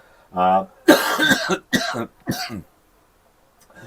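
A few sharp, harsh bursts close to the microphone, like a cough with a short hacking sequence, followed by quiet.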